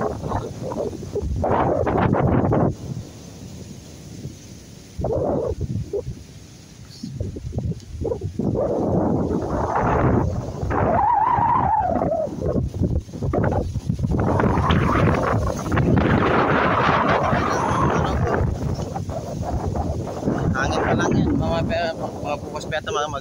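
Strong typhoon wind gusts buffet the microphone outdoors in Cagayan, a loud continuous roar with rustling, interrupted by a voice speaking at several points.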